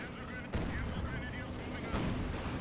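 Dense battlefield audio from the World War II strategy game Company of Heroes 2: rolling mortar and artillery thuds mixed with rattling gunfire, continuous and loud, with low chatter underneath.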